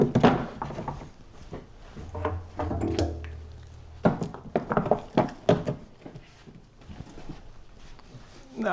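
Empty wooden honey frames, freshly spun out in an extractor, are set back into a beehive super one after another, giving dull wooden thunks and knocks under a voice talking close by.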